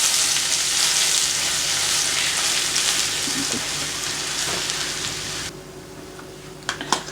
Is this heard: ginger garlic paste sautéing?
yes